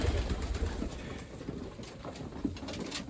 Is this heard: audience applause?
no